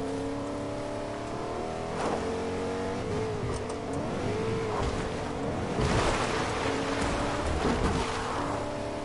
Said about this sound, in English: I'll run you over in the truck.